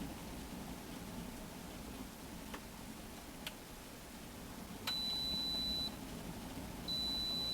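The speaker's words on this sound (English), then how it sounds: "Okay, so it beeps when it's done." A Swan smart electric kettle beeps steadily twice when done, each tone held about a second, clear over faint background hiss with a few tiny clicks before.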